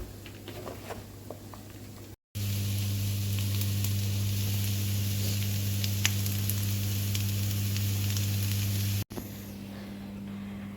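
Bitter gourd slices fry in a pan with onions, a continuous close sizzle and crackle with a steady hum in the background, briefly cut off twice.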